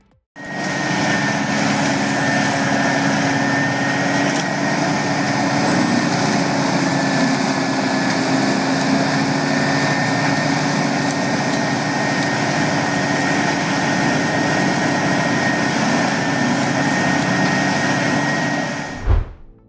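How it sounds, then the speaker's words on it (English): A compact Homer Tree Service walking wood chipper runs for about nineteen seconds, its engine drone steady and loud, close by with a constant high whine, then it cuts off abruptly at the end. "though it's compact, the Homer Tree Service walking chipper packs a punch"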